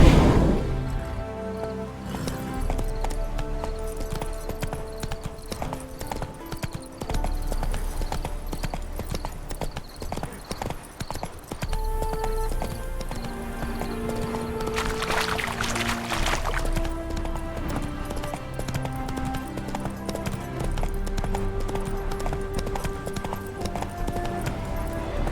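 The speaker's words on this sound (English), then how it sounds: "Spooking my horse." Horse hooves clip-clop steadily for about 25 seconds in The Witcher 3: Hearts of Stone, near and rhythmic under background music; no whinny stands out clearly.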